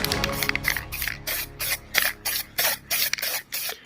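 Short bursts of aerosol spray lay a very light coat on plastic car trim parts of a Fiat Stilo Abarth being restored, about eight hissing puffs in a steady rhythm, close and fairly loud with no talk.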